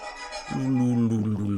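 Ghost Ukelin virtual string instrument giving a brief, eerie bowed sawing tone that swells in after a short hush and wavers unsteadily, heard alone.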